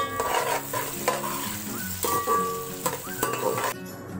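Onions frying in oil with garam masala for beef biryani, a continuous close sizzle punctuated by several sharp scrapes and knocks of a spoon stirring against the pot, with no talking.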